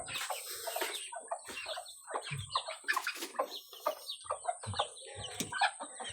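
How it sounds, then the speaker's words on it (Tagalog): Chickens and roosters clucking and chirping on a morning farm, a steady chorus of overlapping clucks and calls close by, with a constant high insect-like whine behind them. "Hello, good morning mga chicken."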